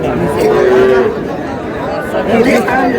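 A calf moos at a cattle market, one drawn-out low call near the start, close and loud, with market chatter and people talking around it throughout.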